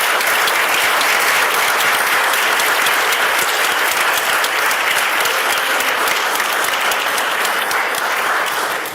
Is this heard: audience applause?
yes